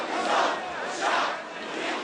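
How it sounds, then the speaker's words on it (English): A large crowd of several thousand protesters in central Alexandria, Egypt, chanting in loud rhythmic surges, a dense roar of many voices rising and falling together. "the crowd had grown to several thousand"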